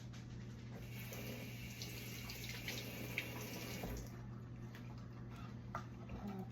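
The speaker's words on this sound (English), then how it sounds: "Rinse off my ginger." Tap water runs over fresh ginger being rinsed at a kitchen sink, a steady, fairly quiet splashing hiss that continues for the whole stretch with no talking.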